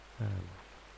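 Rain falls steadily in the Farming Simulator 19 game, a soft, even hiss throughout with one brief low thud near the start.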